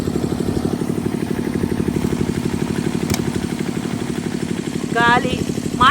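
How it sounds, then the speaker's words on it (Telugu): A generator engine runs nearby with a loud, steady, rhythmic chugging drone that never lets up, and a voice speaks over it toward the end. "ఇది జనరేటరు."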